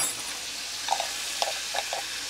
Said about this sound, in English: And then we're gonna saute that until it's all nice and done.